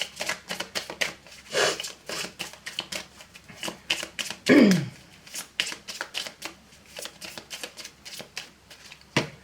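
A deck of oracle cards being shuffled by hand, a long series of crisp riffling bursts in a quick, uneven rhythm, close and clear, with one brief vocal sound partway through.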